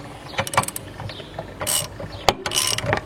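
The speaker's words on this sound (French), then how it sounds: "un outil spécifique qui va nous permettre de pousser le vilebrequin vers l'intérieur" On a Typhoon, Stalker or Zip scooter engine, a pushing tool forces the crankshaft inward to split the crankcase halves, giving a few close metallic clicks and ratcheting scrapes ending in a sharper crack, fairly faint.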